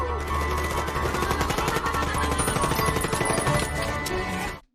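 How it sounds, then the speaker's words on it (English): Modified Gatling guns rattle in a Rango canyon chase scene, a continuous, loud stream of rapid-fire bursts with crashing impacts that runs steadily before cutting off at the end. "These rodents attack the wagon, wearing aviator goggles and firing modified Gatling guns."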